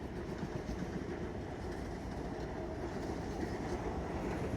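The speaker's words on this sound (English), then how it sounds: "We right by the Long Island Railroad, and it's on Babylon." A Long Island Rail Road train rumbles past close by in Babylon, a steady, loud roar of wheels and rail clatter that holds evenly throughout with no talking.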